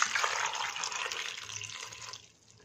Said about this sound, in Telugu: ఇప్పుడు ఇలా నీళ్ళు పోసి